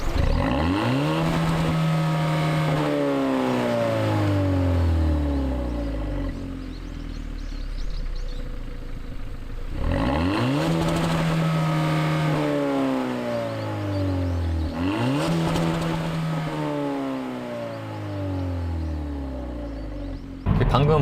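A Hyundai i30 N Line in sport mode accelerates hard three times, and each run rises through the gears in sweeping engine notes with sudden drops at the shifts. The engine is heard from inside the cabin and sounds moderately loud.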